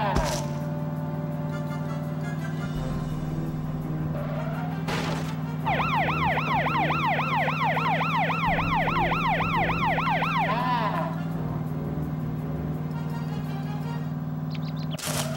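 In the Tonka Rescue Patrol video game, a police car siren starts midway and wails in a fast rising-and-falling cycle for about five seconds over a steady engine drone, then cuts off, with brief clicks and noises at either end.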